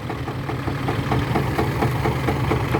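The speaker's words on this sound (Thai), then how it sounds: "เอารถไถไปดึงเลย" A tractor engine idles nearby with a steady, rhythmic low chugging and a faint knocking pulse, heard on its own without speech.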